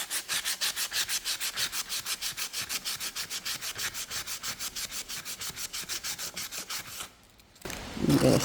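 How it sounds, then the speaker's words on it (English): Hand sanding of dried, hardened primer that was brushed on to seal raised fuzzy wood fibres, in steady rhythmic back-and-forth strokes, close and fairly loud, stopping near the end before a brief bump. "we'd be able to sand that."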